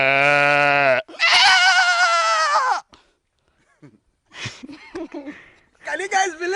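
A man imitates a sheep with a loud, wavering bleat in two long bursts up close, followed by quieter scattered vocal sounds and another short bleating burst at the end.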